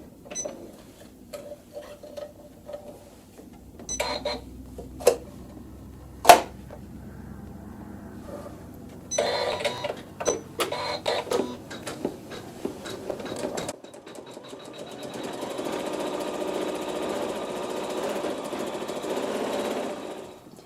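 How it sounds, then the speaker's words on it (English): An embroidery sewing machine stitching, heard first as scattered clicks and short bursts, then as a steady, moderately loud mechanical whirring run that continues to the end. "we're going to sew some embroidery"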